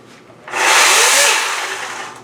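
A Makita electric chainsaw motor kicks on after a short pause and runs loud and steady, a close, harsh whir with no talking.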